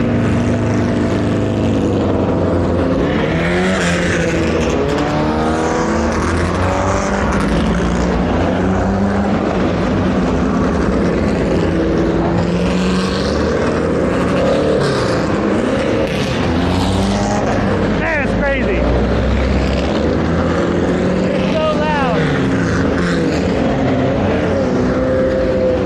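Vintage race cars roar away from the start at an SVRA vintage race, a dense, loud, continuous wall of engine noise with overlapping rising and falling revs as the pack accelerates past.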